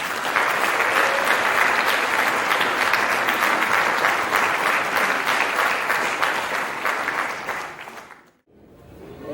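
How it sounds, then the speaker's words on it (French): Audience at a town New Year's greetings ceremony gives a long, steady round of applause, dense and even for about eight seconds before tapering off abruptly. "Et on peut encore les applaudir."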